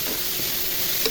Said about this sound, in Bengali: গাজরের কুচি একটু ভেজে নিব